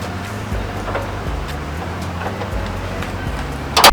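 A Toyota Starlet EP71 hatchback with a swapped engine and stiff suspension drives on a road test, its steady low engine drone heard from inside the cabin with faint rattles and a sharp click at the end.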